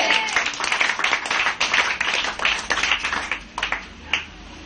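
An elderly man claps at a church gathering, a run of sharp, close hand claps in uneven bursts that taper off near the end, with some room murmur beneath.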